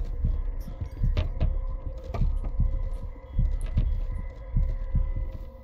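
A heartbeat pounds in the horror video game Demonologist: a slow, steady double thump repeating about once a second, close and heavy over a low ambient hum.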